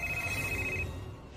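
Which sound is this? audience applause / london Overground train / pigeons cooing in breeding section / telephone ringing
telephone ringing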